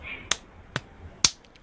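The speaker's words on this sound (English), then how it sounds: "is he making cheek clapping sounds?" A person makes cheek clapping sounds, three sharp, hollow pops spaced unevenly over a second and a half, close and crisp, with a faint tone audible before the first pop.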